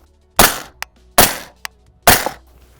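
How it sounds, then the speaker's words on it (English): Three rifle shots fired at a target while a riflescope is zeroed, each a sharp loud crack with a short decaying tail, evenly spaced about a second apart, with small clicks between them and no talking. "now we're gonna shoot another group"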